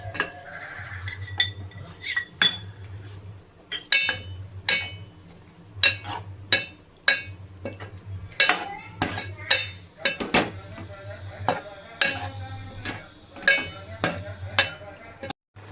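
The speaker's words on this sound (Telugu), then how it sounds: "నెక్స్ట్ కలపాలి" Chicken curry gets stirred in a pot, with a spoon clanking and scraping against the metal in a repeated, fairly regular rhythm of sharp knocks over a low background hum.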